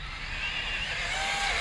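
An Arrma Talion RC car is driven at full throttle, a steady high-pitched motor whine that holds loud and continuous, fairly close, with no talking.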